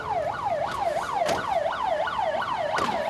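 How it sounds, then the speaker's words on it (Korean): A 119 rescue team emergency vehicle siren in Korea wails loudly in rapid, repeating rising-and-falling cycles, steady and close throughout. "사이렌 소리를 울리며 긴급히 출동하는 119 구조대."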